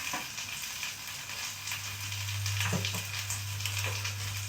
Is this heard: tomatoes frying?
yes